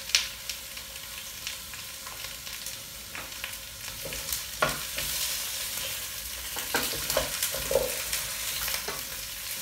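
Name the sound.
vegetables gently frying and being stirred in a pot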